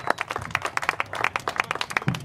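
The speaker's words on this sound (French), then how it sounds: "On les applaudit tous les deux." Scattered clapping from the crowd at a stand-up paddle race podium ceremony, distinct individual claps in a quick irregular rhythm, fairly close and moderately loud.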